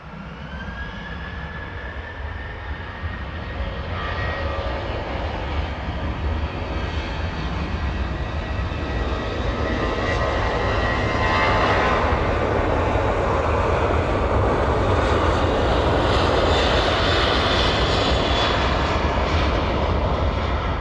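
A Jet2 jet airliner takes off down runway 09 at East Midlands Airport in the evening, a loud, steady engine roar that swells and grows heavier as it thunders past, with a faint whine riding on top.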